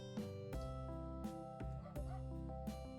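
A dog barks close by, five sharp yaps in a steady rhythm, each with a bright, ringing tone.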